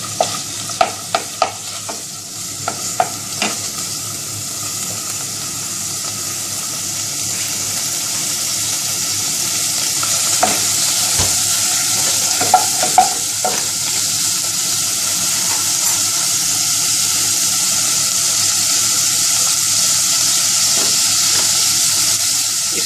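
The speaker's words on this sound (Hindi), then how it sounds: "इसके अंदर हमने कुकिंग ऑयल डाला है और कीमा ऐड कर दिया है। तो कीमा को हम थोड़ा सा फ्राई कर लेंगे।" Minced meat (keema) fries in cooking oil in a small kadhai, a steady close sizzle running throughout with scattered stirring clicks and scrapes, no voices.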